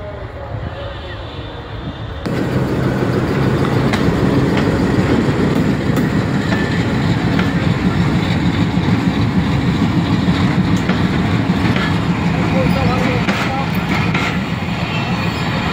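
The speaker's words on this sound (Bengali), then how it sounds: "ট্রেন আসতেছে।" A train approaches and passes, its loud rumbling clatter starting abruptly and holding steady and close for several seconds with faint metallic squeals overhead.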